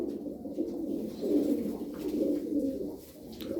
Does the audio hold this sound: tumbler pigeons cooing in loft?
yes